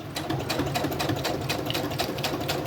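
A sewing machine stitches folios for a junk journal with turquoise thread, a steady rapid mechanical whirr and clatter running close and continuous with no voices.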